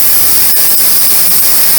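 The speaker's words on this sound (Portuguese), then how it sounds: "Pessoal, aqui agora está drenando o fluido de freio, a bomba de vácuo, né?" A vacuum pump draining brake fluid from a 2011 Ford New Fiesta hisses loudly and steadily, a dense broadband rush with faint pulsing, close and without talk.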